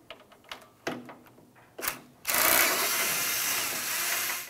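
Ratchet on a 10mm bolt at the AC condenser of a Ford Flex, giving a few sharp separate clicks and clacks before a sustained dense rasping burst of ratcheting that runs for about two seconds, close and fairly loud.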